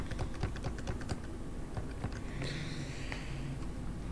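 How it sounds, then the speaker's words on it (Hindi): Computer keyboard tapping while making an attendance list in MS Word: a run of light, close clicks at an uneven pace over a faint background hum, with no talking. "कीबोर्ड से हम टैप प्रेस कर लेंगे।"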